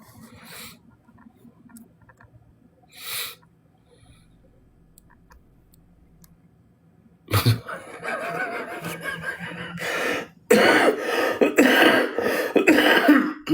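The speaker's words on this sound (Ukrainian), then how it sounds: "Чуєте, який кашель?" A few faint, short bursts early on, then a harsh, loud stretch of repeated coughing and raspy throat noise that continues close to the end.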